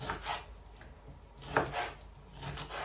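A knife chops bell pepper on a cutting board in a home kitchen, giving soft, irregular thuds and scrapes close by, with no talking.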